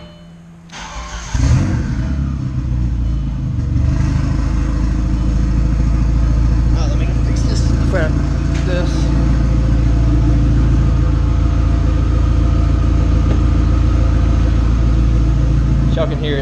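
An Audi engine with a turbo and a new downpipe cranks and catches, then runs loud and throaty at a rough idle with a few blips of revving. Someone talks over it.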